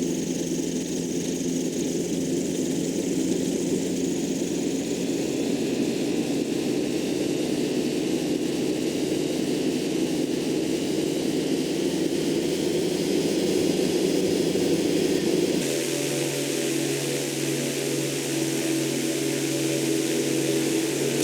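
Ultralight aircraft engine in Flight Simulator X running at full throttle, a steady loud drone with constant hiss that shifts abruptly to a changed engine tone partway through, no voices.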